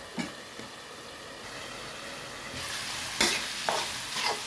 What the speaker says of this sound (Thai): เปิดฝาแล้วก็ผัดนะคะ กลับไปกลับมานะคะ